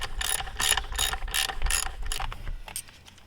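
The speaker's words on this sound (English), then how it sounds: "I have one single bolt to take it off." A ratchet wrench clicks rapidly in a steady run of rhythmic bursts, close and loud, while backing out the single bolt holding a purge valve solenoid on a Chevrolet Colorado, slowing toward the end.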